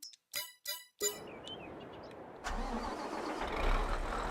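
A Fendt Katana 850 forage harvester's engine starting in Farming Simulator 22, a few short beeps and a rising whine, then the engine catches and settles into a steady low rumble, with no talk.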